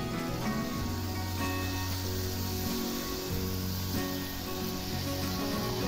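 Jalebi batter sizzles steadily in hot oil on a low flame, a continuous close frying hiss with faint crackle throughout, no talking.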